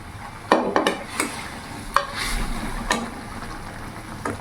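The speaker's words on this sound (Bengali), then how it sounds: "এবার ভালো করে কিছুক্ষণ ফুটিয়ে নেব" Poached eggs simmer in a bubbling curry with a constant close-up hiss and sputter. Sharp clacks and scrapes of a spoon or spatula against the pan punctuate it several times.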